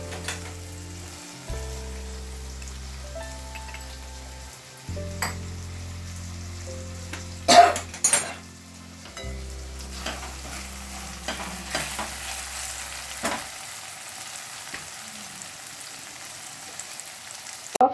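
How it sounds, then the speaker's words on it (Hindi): Paneer tikka sizzles on a griddle, a low steady frying hiss with occasional clinks and scrapes of utensils, close by and without talk. "जब तक मैं इसको पनीर टिक्का को सेक लेती हूँ"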